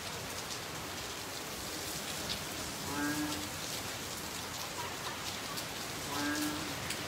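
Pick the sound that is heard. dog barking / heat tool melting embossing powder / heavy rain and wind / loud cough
heavy rain and wind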